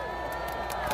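A crowd at an outdoor political rally in Korea claps and cheers in a short, loud burst, with shouts and voices blending into the noise.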